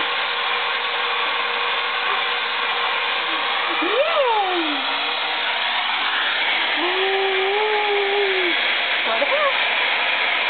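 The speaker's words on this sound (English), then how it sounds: "Ready for a blow dryer?" A hair dryer blows with a constant whooshing roar while a voice talks over it, rising and falling in short, sing-song phrases.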